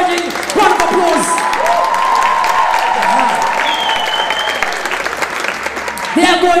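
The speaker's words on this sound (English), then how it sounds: "would you give them an encouraging round of applause?" An audience at a Marimba Bira school performance night breaks into loud applause and cheering for the student performers, with voices calling out over the clapping that swells and then fades.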